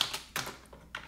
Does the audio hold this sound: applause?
no